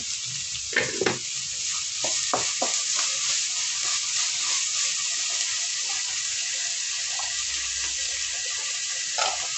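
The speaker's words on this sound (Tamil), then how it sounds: "வெங்காயம் வதங்கிறதுக்கு கூட கொஞ்சம் உப்பு போட்டுக்கலாம் கல் உப்பு" Onions sauté in a pan with a pinch of rock salt for an oil-fried eggplant dish, a soft continuous sizzle broken by a few stirring clacks and scrapes early on and near the end.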